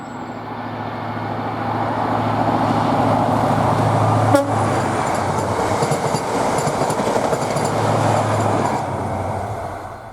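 ScotRail HST power cars 43028 and 43034 pull away from Aviemore, a steady diesel rumble and rolling wheel noise with a sharp horn-like blip midway, fairly close and gradually fading.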